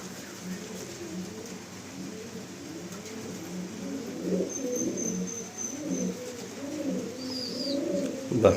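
Pigeons cooing in the breeding section of a loft, a steady chorus of low rolling coos from several birds close by, with faint chirps in the background.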